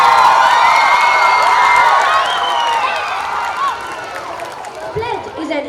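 A large school audience at a Viksit Bharat 2024 event erupts in loud, sustained cheering and shouting with scattered clapping, a dense wall of young voices that gradually eases toward the end.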